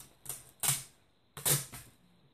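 A strip of duct tape is torn off the roll in two quick ripping bursts, each a rasping tear with a short pause between, close by and fairly loud with no talking.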